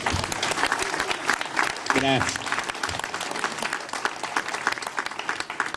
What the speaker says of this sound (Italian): Noi andiamo a fare un applauso particolare a Sergio